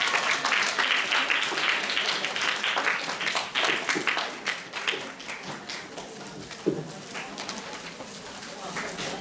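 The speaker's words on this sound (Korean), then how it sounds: "큰 박수 부탁드립니다." Audience applause at a university event in Ulsan, a dense patter of many hands clapping that fills the clip and thins toward the end, with voices mixed in.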